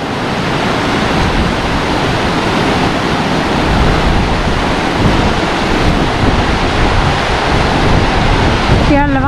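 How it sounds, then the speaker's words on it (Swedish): Rushing mountain water roars as a loud, dense, continuous wash of noise throughout, close to the microphone with some wind buffeting, and a brief voice is heard right at the end. "Ganska mycket vatten som kommer här."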